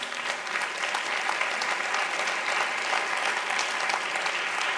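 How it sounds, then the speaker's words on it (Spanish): Sustained audience applause greets a panel at a social inclusion conference, a dense, steady wash of clapping that holds evenly from start to finish with no voices over it. "Un fortísimo aplauso para ellos"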